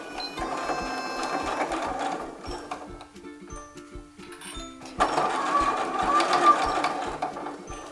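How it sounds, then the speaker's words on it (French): A domestic sewing machine stitches along fabric for a homemade face mask, seaming 1 cm from the edge. Its close, rapid mechanical whirring runs in bursts and briefly slows to a sparse ticking before speeding up again. "je vais coudre sur toute la longueur à 1 cm du bord en commençant par un point d'arrêt"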